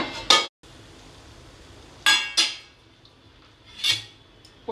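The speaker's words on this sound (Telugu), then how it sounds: "మూత పెట్టి మగ్గించుకుందాం." Metal lid set onto a pan of leafy green dry curry, giving a few short, sharp clanks and rattles spread out over a quiet background with faint hiss.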